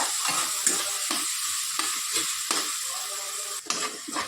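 Potato curry frying in oil in a pan while it is stirred, giving a steady close sizzle with repeated scraping strokes of the spoon and no voices.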